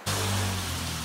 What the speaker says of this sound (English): Just a little rain.